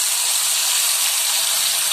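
Fish sizzling in hot oil in a pan, a steady broadband hiss and crackle that holds evenly throughout, close and fairly loud with no talk over it.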